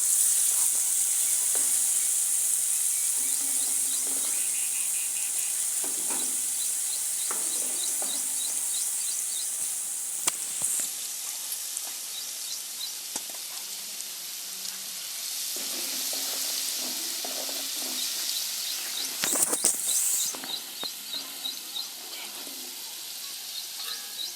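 Garlic paste frying in oil as the tempering for a tomato pickle, a steady loud sizzle running throughout with occasional stirring scrapes and brief louder bursts.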